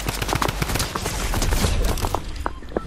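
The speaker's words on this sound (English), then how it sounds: "Yeah, we got shot at." Rapid gunfire in the Fortnite video game, a dense run of sharp shots and bursts that stack into a loud, continuous volley with brief gaps near the end.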